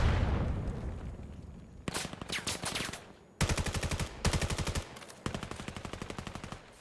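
Rapid bursts of automatic gunfire in the competitive VR shooter Vail, in a team match: several loud, clipped volleys of evenly spaced shots with short gaps between them, and no voices.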